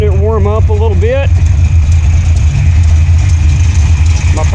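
A Mopar V8 idles with a deep, steady rumble while warming up after a stock rocker fix, a voice speaking briefly over the engine at the start.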